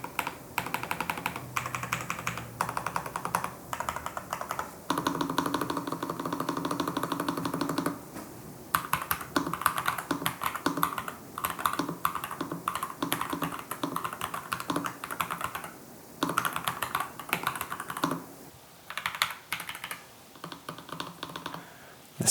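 Typing on a NuPhy Field75 mechanical keyboard, a steady close stream of clacky keystrokes with occasional brief pauses, played alone at moderate volume.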